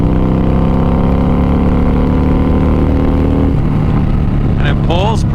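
Harley-Davidson Fat Bob motorcycle engine pulling hard through the revs, a loud, steady close-up drone with wind rush throughout, easing slightly near the end.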